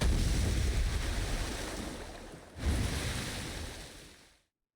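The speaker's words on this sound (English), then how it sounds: "got completely soaked by the wave of seawater" An ocean wave of seawater in the Blue Archive video game crashes as a loud, broad roar of surf that fades, surges again with a second wash, then drops off abruptly, with no voices.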